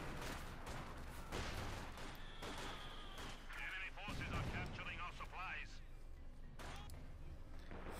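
Mortar fire in a Company of Heroes 2 one-versus-one match: muffled thumps and battle noise under continuous excited commentary.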